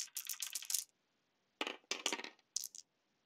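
Dice rolled in a board wargame about Japan in July 1937 clatter in three quick bursts, two rattling tumbles and a short final skitter, close and crisp with silence between.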